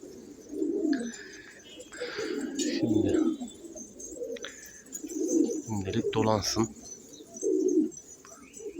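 Pigeons coo in low, soft bursts nearby while people talk over them, with occasional flutters and rustling in the background.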